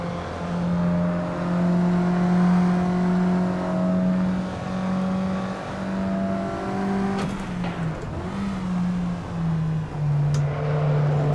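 Mazda MX-3 engine in the Assetto Corsa racing game, a steady loud drone holding a constant pitch that drops briefly and shifts as the driver struggles for second gear, with a short burst of mechanical noise midway.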